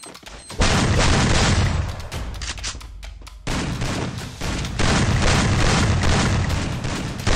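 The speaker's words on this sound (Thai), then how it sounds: "ว้าวระเบิดมา" Heavy booming explosions and rapid gunfire bursts in the video game Free Fire, loud and continuous, with a brief lull before another blast and more firing.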